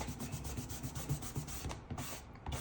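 An eraser rubs out a pencil fashion illustration drawing with quick, close, scratchy back-and-forth strokes in a fast, steady rhythm that is fairly quiet.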